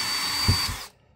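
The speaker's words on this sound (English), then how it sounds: "I'm using a drill to take out my screws" Cordless power drill backing screws out of an RV keyless entry door lock, a short steady whir under a mechanical buzz that cuts off abruptly partway through.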